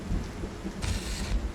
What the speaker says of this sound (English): the rain's getting very loud